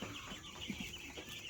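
Quail kept in cages on a small farm give faint, soft clucking chirps over a steady background hiss, with no voices.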